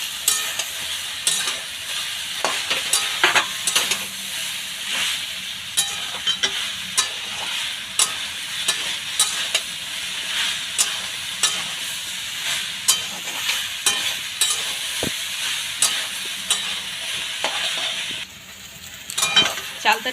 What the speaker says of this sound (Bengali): চালতাটা অনেকটা ভেজে নিয়েছি